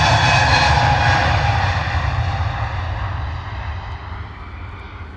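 A Wizz Air Airbus A321neo jet departing London Luton, a loud, broad engine roar that slowly fades as the aircraft moves away.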